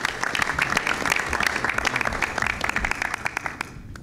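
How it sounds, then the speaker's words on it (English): An audience at a community task force meeting applauds steadily with dense, even clapping that continues for several seconds before fading out. "Let's give Ian a round of applause for that."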